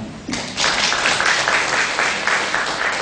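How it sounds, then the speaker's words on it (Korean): Forum audience in a conference hall applauds a presenter, a dense, steady wash of clapping rising after a brief pause and holding loud and sustained. "박수 부탁드립니다."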